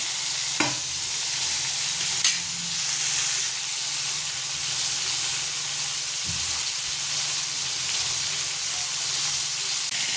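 Eggplant fries in oil in a pan with a continuous hissing sizzle, near and even, and a couple of brief clicks or taps early on. No voices are heard.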